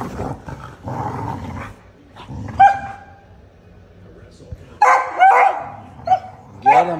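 Two dogs growl and bark in play, with deep rumbling growls broken by sharp, loud barks and yips at close range, and a person talks in between.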